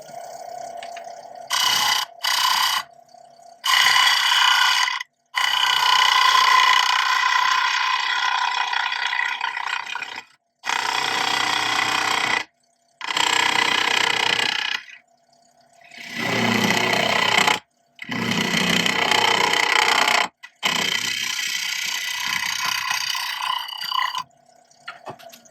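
A spindle gouge cuts mango wood spinning on a lathe, loud scraping bursts of several seconds each broken by short silent gaps, close and harsh.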